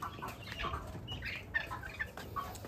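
Laying hens inside a coop, clucking in short scattered bursts at close range, with a few louder calls and some rustling and flapping around them.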